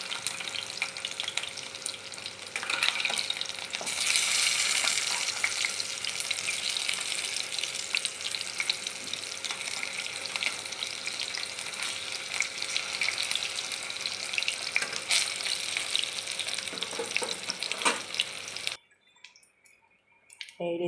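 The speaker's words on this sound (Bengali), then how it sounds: "এই রেসিপিটা অল্প তেলেই ভাজা হয়ে যায়, খুব বেশি তেল লাগে না।" Stuffed pointed gourd (potol) fries in a little oil in a pan, giving a quiet continuous sizzle with brief crackles that stops abruptly near the end.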